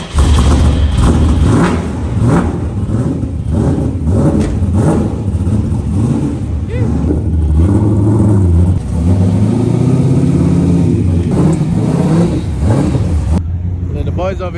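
An LS-swapped Nissan 240SX engine revs loudly and close, rising and falling in repeated bursts over a steady mechanical rumble, with voices talking over it throughout.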